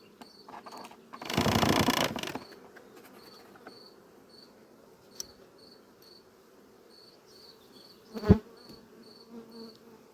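Honeybees hum steadily around an open beehive during queen-rearing work, a faint continuous drone with a loud burst of buzzing near the start and a sharp close knock later, with no talking.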